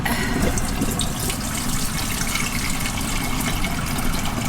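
Tap water runs steadily into a plugged sink or container, a loud continuous gushing and splashing that fills the whole stretch with no pauses.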